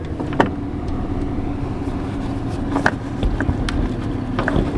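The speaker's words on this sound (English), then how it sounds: "Sorry, trash truck's here." A trash truck runs nearby with a steady low engine rumble, punctuated by brief clanks and mechanical knocks over constant background noise.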